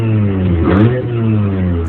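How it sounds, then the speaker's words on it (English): A Mazda RX-7 with a 13B rotary engine idles high and rough, a steady loud drone with a slight surge partway through, heard close with no talking. "and obviously it's idling high."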